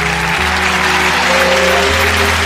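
Loud, dense clapping from a group at a daycare puppet show fills the room, steady and continuous over a sustained background tone of music.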